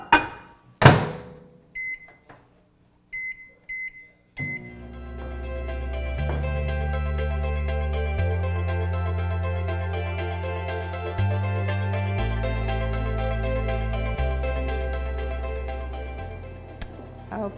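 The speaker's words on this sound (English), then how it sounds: "You just put it in the microwave for 3 minutes." An 1100-watt microwave oven cooking meatloaf in a mug: a few keypad beeps at the start, then a steady humming drone that runs on evenly to the end.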